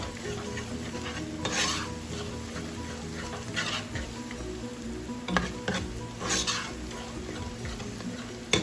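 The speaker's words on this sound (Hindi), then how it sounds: "जब लहसुन कुछ देर फ्राई हो जाएगा" Garlic frying in a pan for chicken bhindi, with steady close sizzle and repeated scraping stirs and utensil clinks against the pan throughout.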